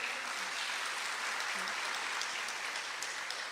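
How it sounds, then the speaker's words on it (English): Audience applause at an opposition anti-crime meeting, a dense steady clapping that fills the room at an even level for several seconds with no voices over it. "Give her a round of applause."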